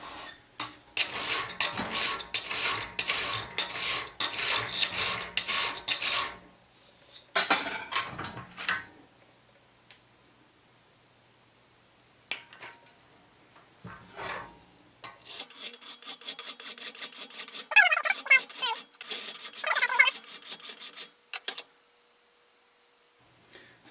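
Metal file rasping back and forth on a chest lock key blank, long runs of quick rhythmic scraping strokes close up, broken by pauses, occasional clinks and brief taps, then another steady burst of filing before stopping.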